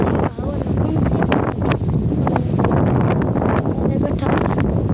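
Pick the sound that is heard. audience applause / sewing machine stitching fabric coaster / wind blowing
wind blowing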